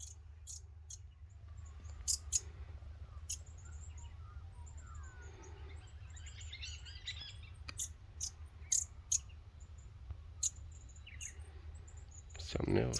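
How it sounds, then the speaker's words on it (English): Small birds chirp in a dry Australian bush conservation park, scattered short bright calls coming and going over a low steady rumble of wind, with a louder close burst near the end. "Pretty little birds."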